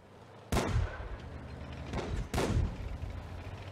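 Two heavy, booming explosions from a tank in World of Tanks, with a smaller blast between them, each followed by a rumbling decay.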